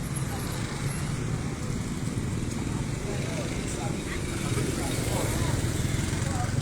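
Busy morning road traffic on the Kepahiang–Pagar Alam route during the post-Lebaran homeward rush, a continuous low rumble of cars and motorbikes passing, with a voice speaking over it.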